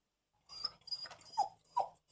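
A dog whimpers and whines in short soft bursts, with two higher cries near the end, heard close and alone against silence.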